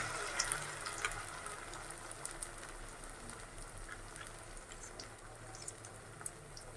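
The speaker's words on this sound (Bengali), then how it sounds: "আমি তিনটা করে ভাজবো আমি যে এক পিঠা আমি উল্টাই দিব এখন" Potato snacks frying in oil in a pan, a soft steady sizzle with scattered faint pops and crackles, quiet and even throughout with no talk.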